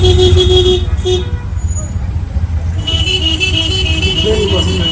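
A traffic jam of tuk-tuks in India at dawn fills the air with loud, near engine drone and repeated horn toots, a dense roadside din under which a voice can be heard.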